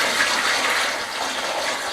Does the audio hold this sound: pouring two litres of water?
yes